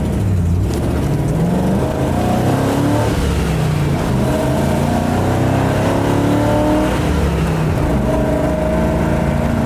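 A 1990 Land Rover Discovery 1 V8 pulls away from a standstill on a straight road, its engine loud and close as it revs up through the gears with rising, steady drone throughout.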